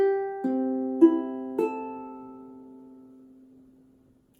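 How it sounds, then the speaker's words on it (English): A tuned ukulele strummed in four single strokes about half a second apart, each chord ringing clearly and the last left to decay slowly into silence, heard alone up close. "your ukulele should sound like this"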